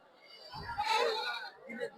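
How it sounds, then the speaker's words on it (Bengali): Goats bleating at a crowded rural goat market, with one drawn-out wavering bleat near the microphone and busy crowd murmur and chatter all around it. "এখানে পর্যাপ্ত পরিমাণে অনেক ছাগল উঠছে।"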